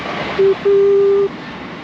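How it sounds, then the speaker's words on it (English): Two steady tones sound, a short one then a longer one, a distant passing train's horn over quiet background rumble at a carp fishing lake. "Sorry, that's a train."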